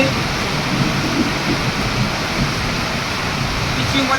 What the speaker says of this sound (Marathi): कारण सध्या पाऊस चालू आहे